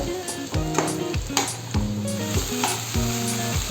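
Potato pieces sizzle steadily while frying in a pan for a Bengali okra curry, with stirring scrapes and clinks recurring through the close, continuous hiss.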